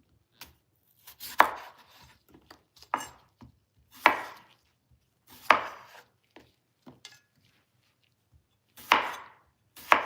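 A knife chops vegetables on a cutting board for a copycat zuppa toscana soup, with about eight sharp, close, irregularly spaced whacks and small taps between them, no talking.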